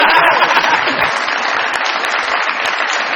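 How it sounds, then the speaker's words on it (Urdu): A studio audience at a comedy talk show applauds in a dense, sustained burst of clapping, loud and close, holding steady for a few seconds with little talk beneath it. "بہت ساری تالیاں میرے بھائی کے لیے."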